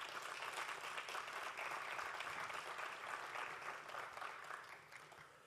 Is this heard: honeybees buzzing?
no